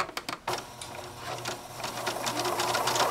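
Sewing machine running a line of stitches across the pressed fold of a small inner purse pocket, steady close whirring after a few brief clicks at the start.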